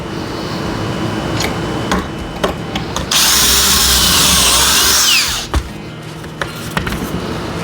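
A power drill bores pocket holes with a Kreg jig set for 1.5 inch thick wood, one loud sustained whirring burst of about two seconds, framed by clicks and handling knocks.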